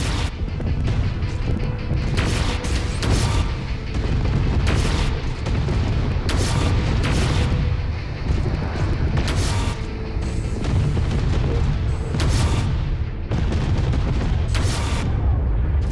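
Loud, repeated booming explosions as targets are destroyed in the MechWarrior video game, with several heavy blasts spaced a few seconds apart over a constant roar of engine and weapon noise.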